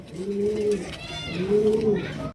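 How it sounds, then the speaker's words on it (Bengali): Pigeons at a pigeon market, including an orange chila pigeon, give two drawn-out throaty coos close by, each rising and falling, over a low background murmur. "কত সুন্দর একদম অরেঞ্জ কালারের চিলা কবুতর"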